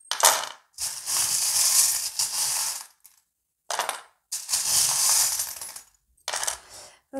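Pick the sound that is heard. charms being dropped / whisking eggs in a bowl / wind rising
charms being dropped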